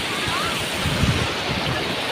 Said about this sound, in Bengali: ওই ধর অনেক বড় ঢেউ আসছে।